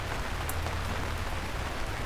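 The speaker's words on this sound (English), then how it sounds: "The first raindrop fell a few seconds later." Steady rain falls as a dense, even hiss of drops on a surface, a continuous wash with no gaps and no voices, set in a narrated story.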